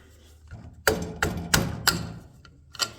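A mallet taps at a carburetor to free it from a Kawasaki FC540V engine on a John Deere mower: five or six sharp, close knocks spaced about a third of a second apart, then a pause and one more.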